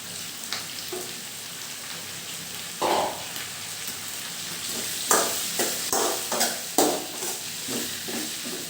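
Onions and tomatoes sauté in a pan for a spicy chilli chutney, a steady sizzle broken by several sharp scraping stirs of a spoon against the pan, close and clear with no talking.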